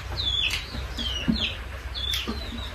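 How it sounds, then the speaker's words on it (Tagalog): A neighbor's chicken clucks and calls in a short series of bright, repeated notes, fairly faint and a little distant, over a low steady background hum. "May manok din tayo."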